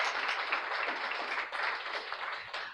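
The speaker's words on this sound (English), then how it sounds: "Let's give them all a round of applause." Steady applause from a crowd at a scholarship program announcement, a dense wash of many hands clapping at an even level throughout, with no voices.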